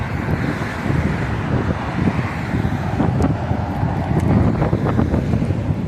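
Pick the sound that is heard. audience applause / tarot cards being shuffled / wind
wind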